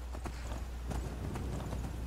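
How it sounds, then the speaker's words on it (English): Horse hooves clip-clopping in the video game Skyrim, with the horse audio glitching, a quick uneven series of hoof knocks over a low steady hum, moderately close. "The horse audio glitching is kind of annoying."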